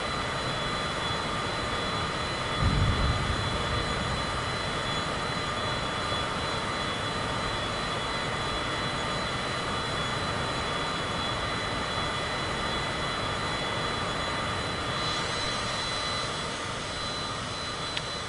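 An airplane engine drones steadily in Microsoft Flight Simulator 2024, a constant loud broadband roar with a faint tonal whine that holds throughout, with a brief low thump early on.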